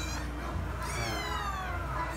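A small cat meows in a drawn-out, wavering cry, faint and close, with quiet background noise.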